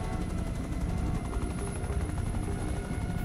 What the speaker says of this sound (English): Chopper's ditched.